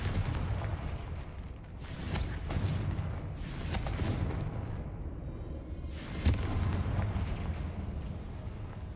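Deep rumbling blasts from the Confringo spell in Hogwarts Legacy, several booming explosions rolling over a dense low roar of battle, fairly loud and close.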